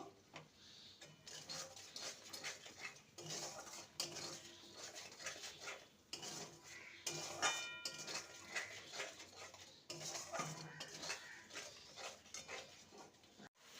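A utensil stirs Kashmiri chili powder into masala in a pan for a vegetarian potato and ridge gourd dish, giving soft, intermittent scraping and clinking that stays faint throughout.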